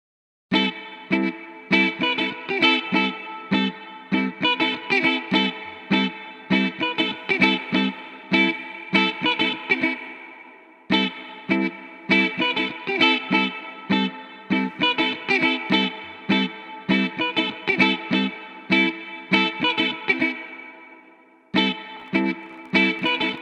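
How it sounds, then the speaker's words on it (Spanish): Reverb effect applied to an instrumental loop in an Ableton Live mix, repeated tonal notes with decaying tails that smear into a wash before abrupt cutoffs, loud and steady. "las reflexiones tempranas son las que más definidamente se presentan en lo que sería la cola producida por la reverb"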